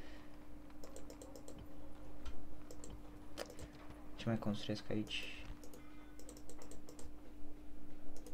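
Close-miked computer keyboard typing and mouse clicks during a strategy game session, a quick burst of clattering keystrokes in the middle, with someone speaking Romanian over the tapping.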